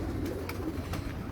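Teddy pigeons coo softly and faintly, with a few brief calls rising over a low background hum.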